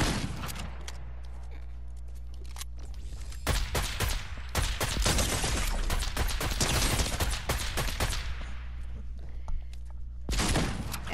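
Rapid bursts of gunfire from the video game Fortnite crackle in loud clusters, with dense volleys in the middle and a final burst near the end, separated by brief lulls.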